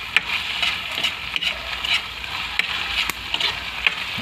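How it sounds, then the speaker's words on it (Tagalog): A dish fries in a pan with a steady sizzle while a utensil stirs it, scraping and tapping against the pan at close range in an irregular rhythm. "Halo-haloy lang natin guys hanggang matuyo ng konti."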